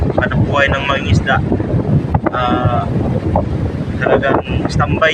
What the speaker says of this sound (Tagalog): malakas pa rin yung hangin amihan